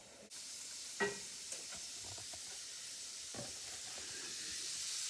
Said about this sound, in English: There's our giblets browning, there's our onions